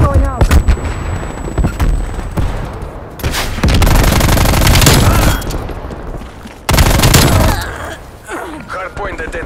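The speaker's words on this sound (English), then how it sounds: "Semtex going out." A Semtex grenade blast and rapid gunfire in Call of Duty: Black Ops Cold War, loud close bursts of automatic fire and booms in clusters, with in-game voice callouts between.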